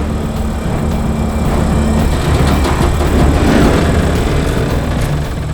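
A heavy rescue truck's engine straining on a snow-clogged road, a loud, deep, continuous roar that swells slightly in the middle, close and without talk.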